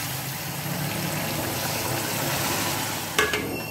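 A cup of hot water is poured into fried masala for fish curry in a pan, making a continuous loud sizzling hiss, with a brief utensil clatter near the end.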